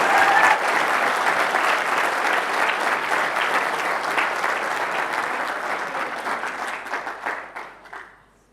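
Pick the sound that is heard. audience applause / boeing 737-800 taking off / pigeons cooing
audience applause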